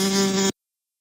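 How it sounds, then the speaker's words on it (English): A wasp buzzes loud and close in a steady, high-pitched hum that cuts off abruptly after about half a second. "A wasp also produces buzzing sound."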